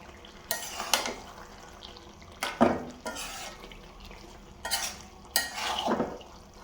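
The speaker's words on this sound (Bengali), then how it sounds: "সব মশলাগুলো কষাইতেছি দেখেন" Spices being stirred and fried in a pan, heard as a series of scraping, sizzling strokes of the spoon, spaced irregularly about a second apart, close and fairly soft over a quiet background.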